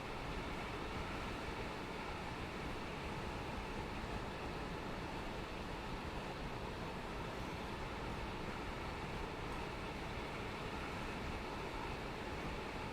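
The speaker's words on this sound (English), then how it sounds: "Train. There's a train." A passing train in Train Sim World 4, on the Edinburgh to Glasgow line, gives a steady, dense rumble with broadband rail noise that holds at an even loudness throughout, with no talk over it.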